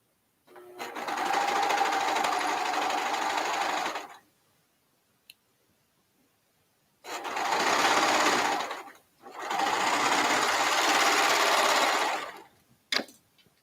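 A sewing machine stitches through a thick seam in three loud, steady bursts separated by pauses, with a couple of sharp clicks between runs.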